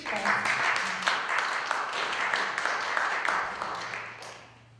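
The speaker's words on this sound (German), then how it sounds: "Applaus und viel Spaß!" An audience at a yoga centre concert applauds as the musicians are introduced, a broad, sustained clatter of many hands that fades near the end, with some faint voices mixed in.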